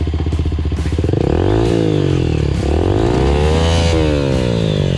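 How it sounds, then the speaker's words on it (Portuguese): A motorcycle on a dirt trail starts with a pulsing idle, then revs up repeatedly in loud rising sweeps, heard close and continuous. "Liga, liga a moto, Lá, liga lá."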